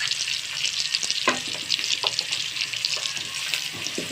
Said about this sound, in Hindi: फिर अब हम इसमें डालेंगे अदरक और लहसुन का पेस्ट।